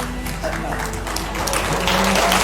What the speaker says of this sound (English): No, don't clap. Don't clap, don't stand.